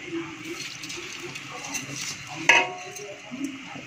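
Washed plain Egyptian rice tipped into a pot of hot ghee, giving a brief clatter and sizzle at a kitchen stove amid faint background noise.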